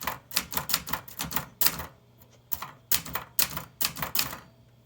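Keys of a mechanical typewriter strike in quick, uneven bursts of sharp clacks, several rapid runs separated by brief pauses, close and loud with no talking.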